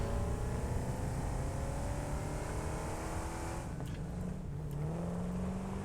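Car driving in the video game Satisfactory, a steady engine drone with rising and falling pitch as it accelerates, continuous and close with no talk.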